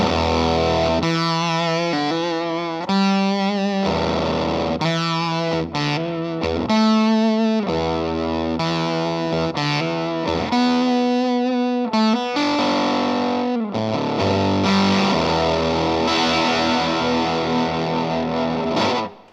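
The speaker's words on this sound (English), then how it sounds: "Octave quality becomes more apparent if you use less gain." Electric guitar through an Earthquaker Devices Fuzz Master General octave fuzz pedal at lower gain, a buzzy octave-tinged tone in steady phrases of chords and single notes, loud and continuous throughout.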